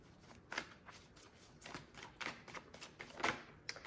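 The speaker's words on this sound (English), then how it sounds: "Just want to make sure I shuffle." Oracle cards from a Mystic Moon Oracle deck being shuffled by hand, soft close riffles and flutters in a series of short bursts against a quiet background.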